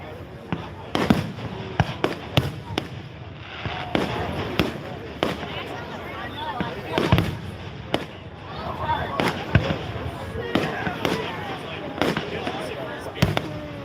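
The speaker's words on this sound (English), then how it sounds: "We're watching their fireworks celebration" Fireworks at the Milan Fair burst in repeated sharp cracks and booms, some near and loud, others distant, with crowd chatter and voices throughout.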